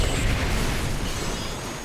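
Explosion in Batman: Arkham Asylum booms loud and close at the start, then rumbles and decays into a long, noisy tail.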